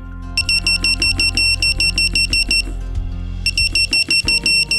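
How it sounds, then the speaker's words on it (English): A loud electronic emergency alarm from an Oma Sense baby movement monitor beeps in rapid repeating bursts of high-pitched tones, with a brief pause partway through before the pattern resumes. "sounds an emergency alarm with flashing LEDs and an audible alarm to alert you"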